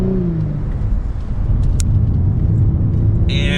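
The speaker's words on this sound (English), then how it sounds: "You can hear the engine slightly, but there is no exhaust note for this Lexus" A 2022 Lexus LS 500 engine while driving around a sharp turn, heard from inside the cabin as a low, steady rumble with faint road noise and a slight rise in revs.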